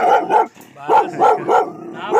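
A dog barks repeatedly in short, loud bursts with a brief pause midway, the barks close and sharp.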